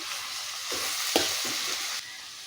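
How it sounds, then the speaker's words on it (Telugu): Shredded cabbage sizzling in a pan for a cabbage fry, with a steady frying hiss and a few soft scraping strokes as it is stirred, close and fairly loud, no voices. "చూడండి క్యాబేజీ వేగుతుంది కదా ఒకసారి కలుపుకుందాం"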